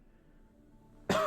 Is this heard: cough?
yes